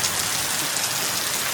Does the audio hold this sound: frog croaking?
no